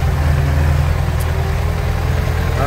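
A tractor engine idles after a hard start in freezing weather around minus 11 to minus 15, giving a steady low rumble that runs throughout without talk.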